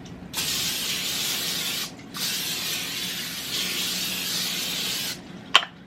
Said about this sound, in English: I'm also going to spray my foil so that the cheese doesn't stick to it.